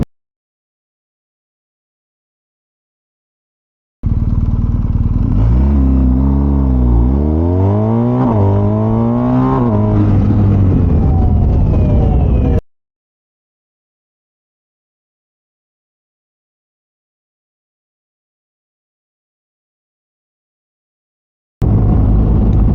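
A BMW R1250GS motorcycle accelerates hard from a standstill to 100, its engine note climbing through repeated gear changes in a loud, continuous run of about eight seconds, then silence before the sound briefly returns at the end.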